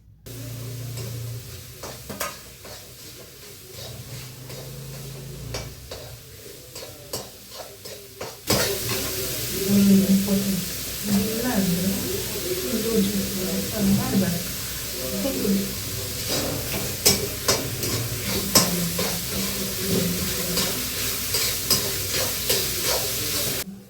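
Grated raw mango hits a hot pan in a home kitchen and sizzles loudly, a steady frying hiss with scraping stir strokes throughout; a quieter stretch of stirring comes first before the sizzle jumps up, with a voice briefly over it.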